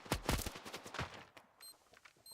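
Rapid gunfire bursts from the mobile shooter game Standoff 2 at an esports major match, several sharp close shots in quick succession followed by fainter pops and small electronic tones.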